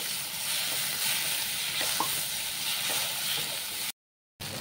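Tomatoes sauté in a pan as the base for a pearl spot fish curry, giving a steady, moderate sizzle with soft stirring scrapes and a short silent gap near the end.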